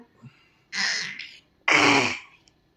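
A baby with a cough gives two harsh, breathy coughs close up, about a second apart, the second louder and longer, with near silence around them.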